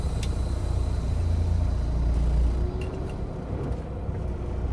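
A semi truck with a 10-speed manual transmission pulls away in first gear, its diesel engine a low, heavy rumble that swells briefly and then settles, heard from inside the cab.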